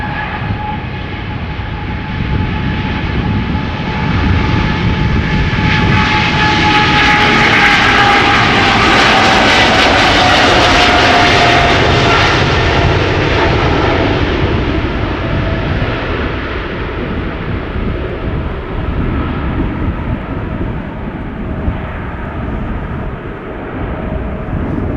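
An Emirates SkyCargo freighter jet, 11 years old, taking off outbound for Dubai from Schiphol Airport. The engines build into a loud, sustained roar with a rising whine that peaks in the middle and then slowly fades.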